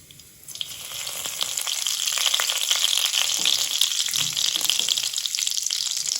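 Cumin, cinnamon, black and green cardamom and star anise crackle and sizzle steadily in hot oil for a prawn curry, a close, continuous frying hiss that swells after a quiet start.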